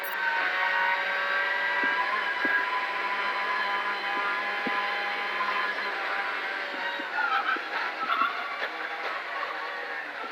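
A Subaru Impreza S14 WRC rally car on a stage of the Birr Abbeyleix Rally in the Irish National Rally Championship, engine droning loud and steady with gear changes, then fading into the distance.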